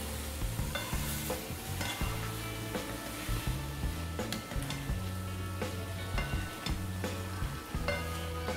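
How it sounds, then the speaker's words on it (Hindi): Four potatoes being stirred and mixed in a hot pan for aloo sabzi, with soft scraping, light sizzle and repeated spatula clicks over steady background music. "इसमें मैंने 4 आलू लिए हैं। हम इसे अच्छे से मिक्स कर लेते हैं।"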